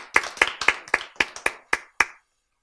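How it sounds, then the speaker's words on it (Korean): A lecture audience claps in a steady, even rhythm: about eight sharp, distinct claps spaced roughly a quarter second apart, followed by silence. "그렇지, 박수."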